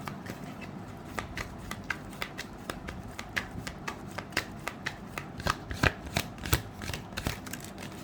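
Tarot cards being shuffled and drawn for a reading: a soft, continuous run of close riffling and flicking card sounds, growing slightly louder toward the end.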